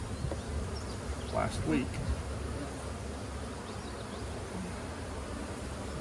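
Honey bees on comb inside an opened hive hum in a dense, continuous drone, with a brief close buzz passing early on and a voice speaking a few words over the swarm.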